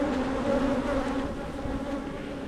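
Honey bees buzz around an open hive during an inspection, a dense steady drone of many wings close by, fairly loud and constant with no voices.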